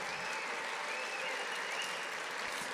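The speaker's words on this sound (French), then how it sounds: "Ouais, vous pouvez applaudir." A roomful of people applauding at an Olympism day event, continuous even clapping throughout, close and loud with no break.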